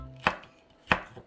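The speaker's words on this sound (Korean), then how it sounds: "젓가락으로 들기 좋은 크기로 썰어주세요" Two crisp knife strokes chop Cheongyang chili peppers on a cutting board, spaced well apart and sounding close and clear in a quiet kitchen.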